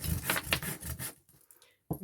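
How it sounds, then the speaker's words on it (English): Short bursts of rough rasping from a small sanding disc scrubbing wood, in quick repeated strokes, then a brief pause and another burst. "we're going to sand this one, and I've got some little sanding discs"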